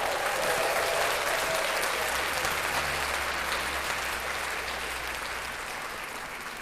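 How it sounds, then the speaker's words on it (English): Applause during a live-streamed podcast, a continuous wash of clapping that sounds somewhat distant and processed, holding steady before slowly fading, with a low hum underneath. "So let's clap that up for Joe."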